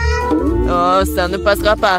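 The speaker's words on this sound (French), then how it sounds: "Ah ouais, c'est un chat." A cat meows loudly and close by, its drawn-out cries overlapping with a person speaking.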